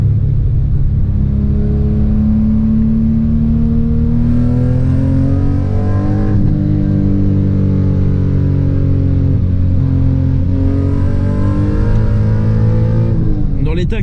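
A Toyota Supra's engine drones loud and close from inside the car as it drives through a series of curves, its pitch rising and easing with throttle changes, a steady rumble underneath throughout.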